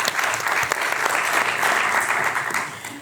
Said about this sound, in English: But big welcome and applause for her.